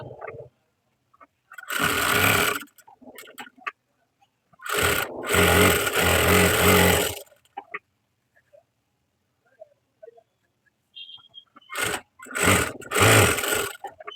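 Blouse fabric with lining runs through a sewing machine in short separate bursts of stitching, each lasting a second or two, with quiet pauses in between.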